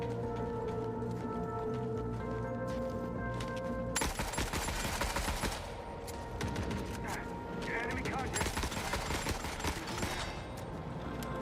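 Gunfire in The Forever Winter: after a quieter stretch, dense rapid bursts of shots and crackling impacts keep coming, fairly faint in the mix with a voice now and then.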